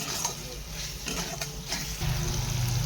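Spice paste with a whole tomato, salt, ginger and garlic for a chickpea curry, cooked down in a pan: a steady, close sizzle with soft stirring scrapes throughout.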